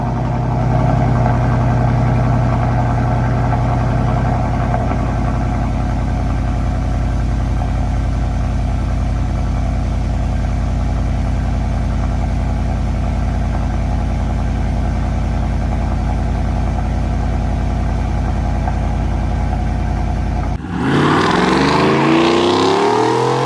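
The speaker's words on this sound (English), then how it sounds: "So this time we're going to go with the Borla SType. It's not too loud, but it does still sound good." A Ford F150 with a 5.0L V8 and a Borla S-Type exhaust idles in a deep, steady, fairly loud drone. Near the end it cuts off abruptly and the sound shifts.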